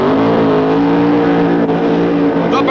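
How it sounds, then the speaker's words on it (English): A Funny Car does a loud burnout at the drag strip starting line during the 1986 NHRA Northstar Nationals, a continuous roaring engine with tire squeal that stays unbroken and close throughout. "The burnouts designed to heat the tires to their maximum efficiency to get them as clean as possible"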